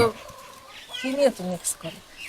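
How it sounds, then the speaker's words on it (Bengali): A rooster in a village yard clucks in a few short, throaty bursts, close by and moderately loud, with quieter gaps between the calls. "তোমার এই মোরগ নিয়ে আমি আর পারি না"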